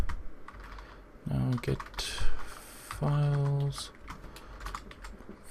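Code being typed on a computer keyboard, a rapid irregular patter of close key clicks running throughout, while someone speaks briefly over it.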